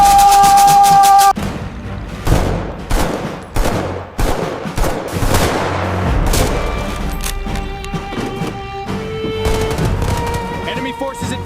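Loud, sustained automatic gunfire, including a roaring minigun, pounds through an AI-generated battle scene at a military base, with dense rapid bursts, sharp cracks and booming impacts that ease into a steady rattle.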